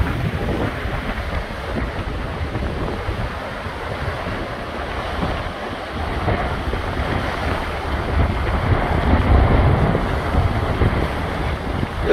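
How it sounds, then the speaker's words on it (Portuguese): Strong wind and crashing surf along a rocky coastline with cliffs, a continuous loud roar of waves with heavy wind gusting across the microphone, and no talking. "Olha o vento."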